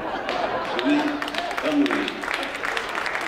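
Audience applause at a poetry festival reading of Romagna dialect verse, a sustained mid-level wash of clapping with a speaking voice cutting in over it.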